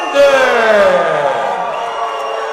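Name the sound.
boxing crowd booing and cheering the decision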